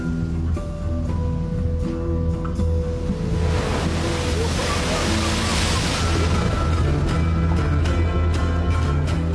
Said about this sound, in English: he's walled by tons of water and crushing waves